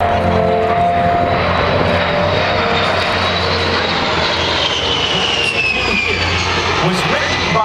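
A P-38 Lightning propeller airplane drones loudly and steadily overhead at the Oshkosh airshow, engine tone shifting slightly as it passes, with a constant roar throughout.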